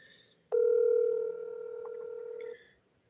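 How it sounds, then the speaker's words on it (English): A telephone ringback tone sounds on an outgoing call to Casey: one steady, clear electronic tone lasting about two seconds, with quiet room hiss before and after and no talking. "Come on, Casey, answer the phone."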